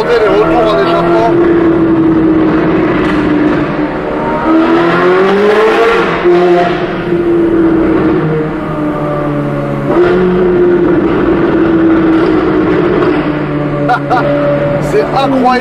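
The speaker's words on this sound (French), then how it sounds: "Je sais pas si vous entendez les retours en échappement." A Ferrari engine revs and falls repeatedly during downshifts, its loud exhaust crackling with intermittent backfire pops, heard from the cabin beneath ongoing conversation.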